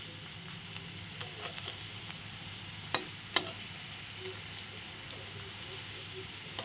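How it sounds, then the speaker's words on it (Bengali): Papaya fritters frying gently in oil, a soft, quiet sizzle with a few small pops and clicks at a steady low level. "এখন আস্তে আস্তে ভাজা হোক"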